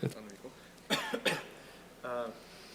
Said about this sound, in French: Attendez, je vais tousser